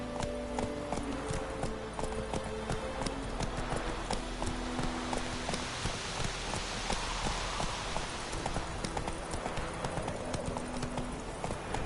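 Horse hooves clip-clopping at a steady gallop in The Witcher 3, continuous and close, layered over a rain-like patter and ambient game sound with a brief neigh, no talk.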